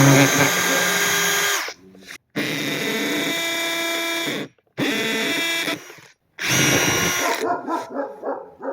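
A $300 hammer drill whines through bursts of drilling, three long runs separated by abrupt stops, loud and close, followed by a rougher, uneven final stretch.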